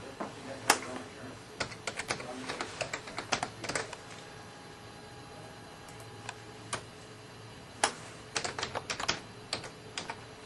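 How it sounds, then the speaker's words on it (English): Close, irregular computer keyboard typing as a username and password are entered, with scattered sharp key clicks and short pauses between bursts. "go ahead and type in your username and password"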